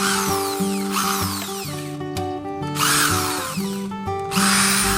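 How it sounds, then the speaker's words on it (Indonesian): A power drill bores holes into bamboo poles, its motor whine rising and falling across several separate bursts with short pauses between, close and loud with no talking. "Nanti satu persatu bambunya aku lubangi."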